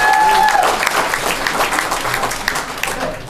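A comedy club crowd claps and cheers loudly and steadily, applause that gradually thins toward the end, with a brief whistle near the start.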